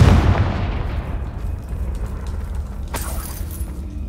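The Confringo blasting spell from the Hogwarts Legacy video game goes off as one loud, close explosion with a deep boom that rumbles and slowly fades, and a second crackling burst follows partway through.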